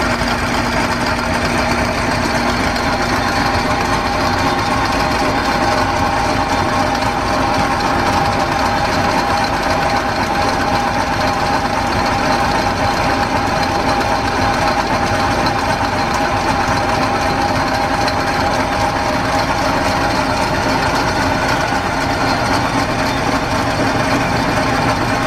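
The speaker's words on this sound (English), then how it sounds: "taking a few cuts off this piece of 2-inch pipe to clean up the OD on it" Steam-powered lathe in a machine shop taking cuts off a length of 2-inch pipe, a steady continuous mechanical hum and whir with a faint tonal whine, running evenly without pause and with no talk.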